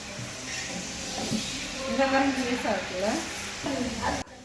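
Onion with cinnamon, cloves and cardamom being stirred in a pan for chicken biryani, a steady sizzle with scraping stir strokes under a speaking voice.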